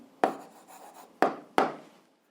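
A pen or marker tapping and scratching on a board or paper while writing down an algebra answer, with three distinct sharp strikes and soft scraping between them, close and alone without speech.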